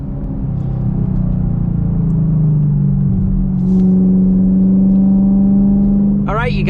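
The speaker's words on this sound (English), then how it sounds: "we are setting off in the Camaro here to try out these Eibach Pro Kit lowering springs" Chevrolet Camaro 2SS 1LE on Eibach Pro Kit lowering springs pulls away, its steady low engine drone and rumble rising slightly in pitch as it accelerates, heard from inside the car without talk.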